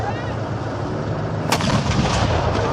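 A tank's turret gun fires a single loud, sharp shot midway, the blast ringing briefly over steady engine rumble; the vehicle is a Soviet-era military tank, heard from fairly close outdoors.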